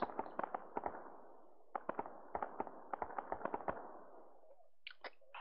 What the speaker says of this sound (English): We can't get pinned down with these mortars.